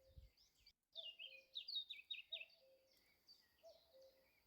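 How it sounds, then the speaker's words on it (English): Common cuckoo call, played back from a recording, comes through faint and a little distant as a repeated two-note motif, set among chirps and trills from other birds with no talking. "Oh, you can hear the cuckoo."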